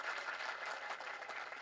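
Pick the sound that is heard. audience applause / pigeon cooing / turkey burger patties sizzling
audience applause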